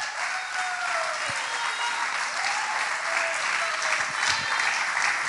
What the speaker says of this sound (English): Clap your hands to Him one more time.